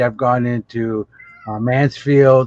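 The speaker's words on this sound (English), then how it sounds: "That's my cat. He's meowing." A pet cat meowing in a series of loud, close, drawn-out cries with brief gaps between them, overlapping a person talking nearby.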